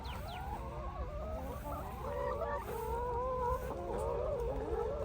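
Backyard chickens clucking and calling in a steady, overlapping chorus at a Lao family's small farm in Texas, several birds close by with continuous low background noise.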